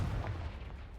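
A Confringo blast spell explodes in Hogwarts Legacy with a short, loud, low boom and rumbling decay, heard alone.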